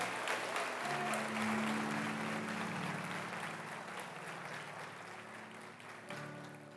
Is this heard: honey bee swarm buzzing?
no